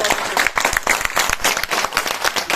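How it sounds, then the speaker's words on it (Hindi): Close, loud crowd clapping for a chairman at a gathering of auto and taxi drivers in Kashmir, with quick irregular hand claps bursting rapidly over a short span. "चेयरमैन साहब के लिए और जावेद साहब के लिए, इनके लिए तालियां बजा के"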